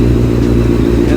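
A 2003 Honda CBR F4i motorcycle engine runs with a loud, steady, close-up drone, holding an even rev with no pause.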